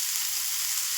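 Chopped onions and minced garlic sizzle in hot oil with whole cumin seeds, a steady, close, bright frying hiss with no voices.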